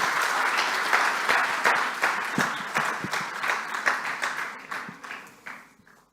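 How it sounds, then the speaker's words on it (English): An audience at a CMA USA convention seminar applauds, with a loud burst of clapping that thins into scattered individual claps and fades out over several seconds. "Everybody come on, a huge round of applause"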